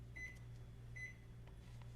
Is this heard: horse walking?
no